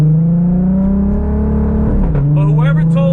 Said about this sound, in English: We'll rev it a little bit so you guys can hear it